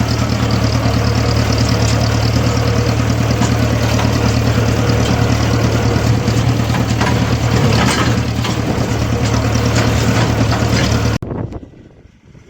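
A tractor-driven straw reaper runs steadily in a windy field while straw is made, giving a loud, continuous engine and machinery drone with a constant low hum, which cuts off abruptly near the end.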